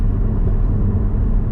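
Porsche Cayman GT4 (981) engine giving a steady, loud low rumble that holds without break, with no voices over it.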